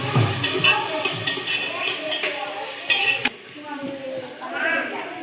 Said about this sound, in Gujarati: આપણું શાકભાજી બધું અંદર નાખીને અને તેલમાં મિક્સ કરી દીધું છે